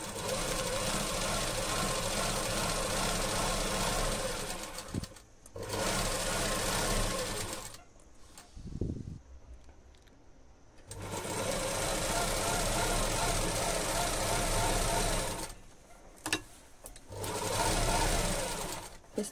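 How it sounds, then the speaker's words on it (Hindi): A sewing machine stitches fabric into a homemade handbag, running in several loud buzzing bursts separated by short pauses, heard close up. "तो अब हमें इसके अंदर से सिलाई लगानी है ताकि ये कपड़ा इसमें अटैच पूरी तरह से हो जाए।"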